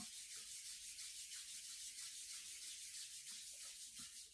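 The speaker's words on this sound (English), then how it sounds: "rub your hands together in a circle" Palms rubbing together in circular motions during a yoga therapy session, a steady, close, soft swishing friction with a gentle pulsing rhythm and no talking.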